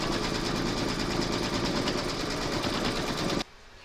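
An embroidery machine stitches a placement outline on fabric, a steady rapid mechanical whir with a fast stitching pulse, close and continuous, then it stops abruptly near the end.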